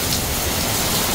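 Heavy rain pours steadily during a storm in Mecca, in a dense, even hiss, loud and close, with no other sounds.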